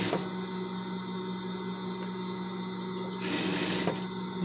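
A sewing machine stitching a folded seam finish on a simple doll-style pet dress, running as a steady continuous whir throughout with a brief higher-speed burst near the end, close and alone.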